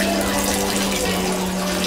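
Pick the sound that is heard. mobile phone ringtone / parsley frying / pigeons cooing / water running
water running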